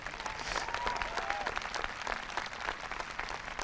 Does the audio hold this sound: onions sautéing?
no